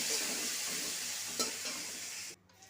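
Chopped onions sizzle with whole garam masala and bay leaves in a pan while being stirred, making a close, steady frying hiss with one scrape partway through, then the sound cuts off sharply near the end.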